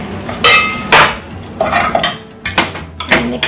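A utensil mixes butter into mashed potatoes in a bowl, making several loud knocks and clinks against the bowl in an uneven rhythm, close up.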